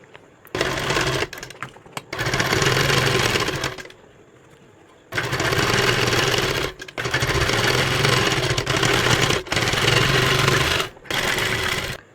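A sewing machine stitches along the base of a piped sleeve strip in rapid, loud close bursts, running about a second and a half, pausing, then two long runs and a short final burst.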